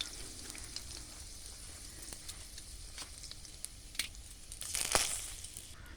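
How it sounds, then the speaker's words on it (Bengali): Five-spice, bay leaf and dried chilli frying in hot oil for a hog plum chutney give a soft, steady crackle and sizzle close by, rising to a brief louder burst of spitting near the end. "ফোড়নে দিলাম 5 ফোড়ন, তেজপাতা আর শুকনো লঙ্কা।"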